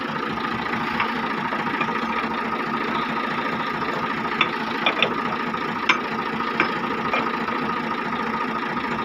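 A vehicle engine idles with a steady, loud rumble and faint knocking, while a few light clicks and taps sound near the end, no talking.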